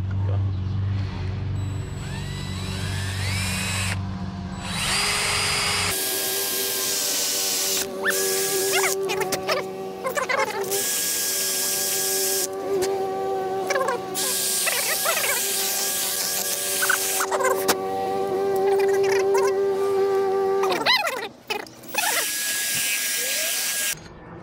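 A power tool drives bolts into a Mishimoto car intercooler, a steady high-pitched whirring that runs almost continuously with pitch shifts and brief pauses, loud and close, with a few voices faintly underneath.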